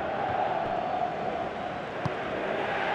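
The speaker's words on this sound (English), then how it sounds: "Crowd appreciates good football all round there" A stadium crowd at a PES 2017 football match between Wales and Portugal keeps up a steady, moderately loud roar with a faint thump near the end.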